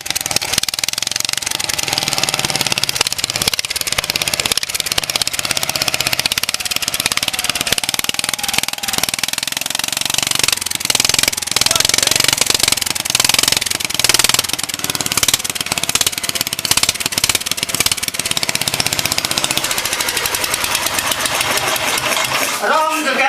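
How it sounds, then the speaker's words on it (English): A Briggs and Stratton small engine with points ignition on a Terra Jet runs continuously and loudly up close, a busy rattling, knocking chug with steady rapid firing and occasional shifts in pace. "BRiggs and Stratton motor"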